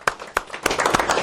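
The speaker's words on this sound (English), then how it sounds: "Give him a round of applause." An audience at a business seminar claps, starting with a few scattered sharp claps that quickly build into fuller applause in a short burst.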